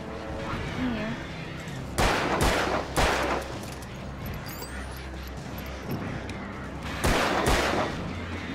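Gunfire in the video game Alan Wake: several loud, sharp shots come in pairs and short bursts over a steady, noisy game background.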